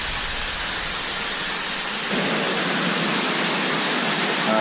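Rushing water from a stream and waterfall inside a river cave, a loud, steady broadband roar that fills the space without a break.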